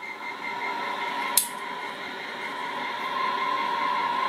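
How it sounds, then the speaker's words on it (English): Steady radio hiss from a GPS extension system signal received on a Watkins Johnson WJ9040 receiver, with faint humming tones running through it, a brief sharp click near the start, and a thin whistling tone appearing toward the end. "GPS extension systems"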